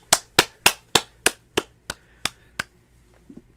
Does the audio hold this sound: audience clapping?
yes